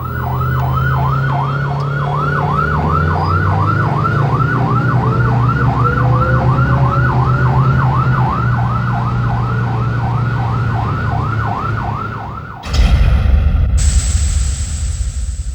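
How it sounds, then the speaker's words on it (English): An airport fire engine's American-style warbler siren sweeps up and down in rapid, steady cycles over a loud engine drone, then cuts off abruptly near the end, leaving a brief high tone and rumble. "The Siren is the more American-style warbler"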